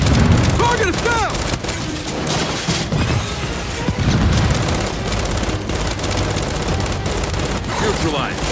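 Dense rapid gunfire and crashing impacts in the video game Gears 5, bursts of automatic fire layered with explosions, loud and continuous throughout with shouting voices mixed in.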